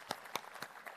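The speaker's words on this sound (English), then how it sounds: "Applause for you in the room who make it happen" A few faint, evenly spaced hand claps come from an audience at a Forevermark diamond forum in India, sounding sparse and distant.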